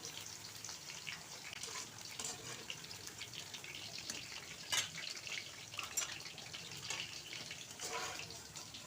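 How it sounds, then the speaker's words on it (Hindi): Onions frying in ghee on a medium flame in a home kitchen, a faint, steady sizzle and crackle with occasional small pops throughout and no talking. "अब हम इनको निकाल लेंगे और इसी घी में हम प्याज डाल देंगे फ्राई होने के लिए।"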